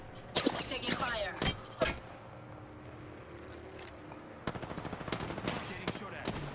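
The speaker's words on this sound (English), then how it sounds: "Getting shot at. The enemy is moving in." Enemy gunfire in the video game Apex Legends, rapid automatic bursts and single shots crackling at moderate distance, with a quieter pause before another fast burst of fire.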